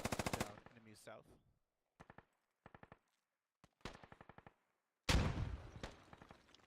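Gunfire rings out in an Arma military video game battle during a 7CAV operation: rapid automatic bursts and short clusters of shots separated by silent gaps, ending in a heavier loud blast. A voice is faintly present.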